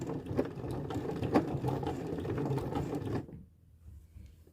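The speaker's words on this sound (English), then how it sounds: "I'm just going to back stitch" A home sewing machine runs a steady mechanical whir while back stitching fabric for a lap zipper, close and continuous, then stops abruptly near the end, leaving quiet room tone.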